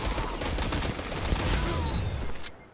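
A Crimson exotic hand cannon in Destiny 2 fires in a dense burst of sharp, rapid shots over a busy in-game soundscape, loud and continuous until a quick fade at the end.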